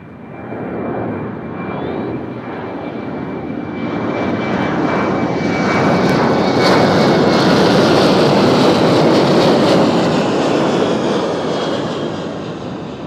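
Airliner approaching at Nashville International Airport, a jet roar swelling from moderate to loud as it draws near, then easing slightly as it passes overhead.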